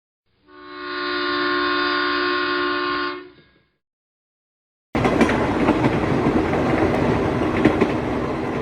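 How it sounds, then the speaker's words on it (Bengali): A train's horn sounds one long, steady blast, then cuts out. After a short silence, the loud, continuous rumble and clatter of the running train follows. "ট্রেন থামে"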